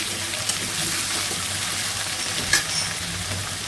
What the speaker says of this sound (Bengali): কচুটা ভেজে নিচ্ছি আগে